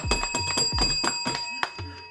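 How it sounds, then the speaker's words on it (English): Several bells struck in quick succession on a talk show set, bright ringing hits with sustained overtones in a lively rhythm, close and loud, with no talking over them. "we just hit the bells, man, let people know"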